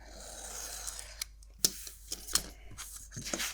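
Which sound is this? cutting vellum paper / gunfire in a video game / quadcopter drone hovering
cutting vellum paper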